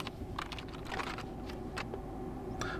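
Keys clacking on a RedThunder K84 wireless keyboard, a brisk run of close, crisp clicks at an uneven typing rhythm over a steady low hum.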